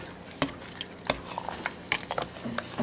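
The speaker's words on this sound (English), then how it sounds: "Stir that all in" A spoon stirs quinoa black bean chili in a pot, giving soft, wet, squishy patters and scrapes in short irregular bursts, close and fairly quiet.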